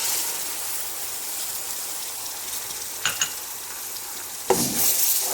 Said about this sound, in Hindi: अब इन प्याज में हमने जिंजर गार्लिक पेस्ट ऐड करनी है।